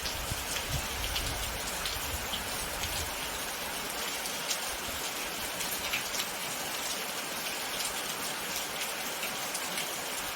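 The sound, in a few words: heavy rain falling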